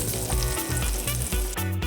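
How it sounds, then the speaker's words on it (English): Loud, crackling sizzle of a bone-in prime rib roast searing in a hot pan, continuous with small pops and a brief clatter near the end. "Listen to that sizzle."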